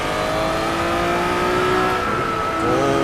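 NSX mod car in a racing video game, its engine droning loudly with tires squealing in a sustained high whine as it corners, with no talking over it.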